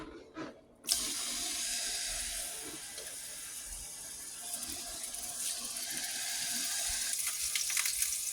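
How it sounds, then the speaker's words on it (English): Water heating in a pan on a home stove while making chicken alfredo, a steady hiss and light bubbling that builds gently and stays close and continuous throughout. "the water's starting to bubble a little"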